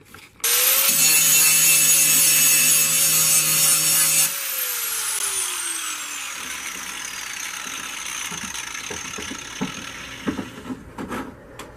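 A loud high-pitched grinding whine as a metal knife blade is ground for a few seconds, then the tool spins down with a falling pitch, followed by quieter scraping and handling noises.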